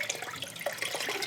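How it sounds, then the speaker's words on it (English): Water streams and drips as a soaked hand-knitted garment is lifted from its bath and squeezed out, a steady close trickle and splash with no voices. "I'm going to squeeze out all of the excess water"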